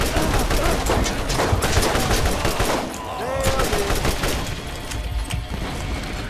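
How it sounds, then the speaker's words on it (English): Rapid enemy gunfire in the shooter game Borderlands, dense overlapping bursts like automatic weapons rattling almost continuously, loud and busy, with a short lull midway before the shooting resumes. "Whoa, we're being fired upon!"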